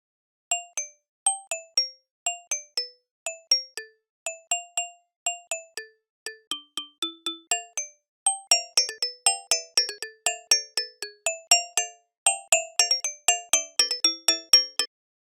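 Playback of a song exported from an LMMS project as a WAV file: bright, bell-like synth tones plucking short melodic notes in a steady rhythm, clean and alone.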